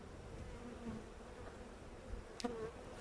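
Honeybees drone steadily around an open hive frame during an inspection, a low continuous buzz with one louder, closer bee passing briefly near the end.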